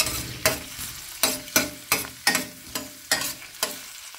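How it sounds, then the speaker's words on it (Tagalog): Garlic sizzles in a hot pan set to 220 degrees, with a steady crackling fry under repeated sharp scrapes of a spatula stirring it, about two a second, close and loud, no voices. "Uunahin natin ilalagay itong bawang."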